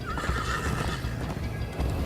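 A horse whinnies loudly over rapid galloping hoofbeats in the Minecraft: Story Mode video game, the neigh riding atop a dense rumble of clip-clop.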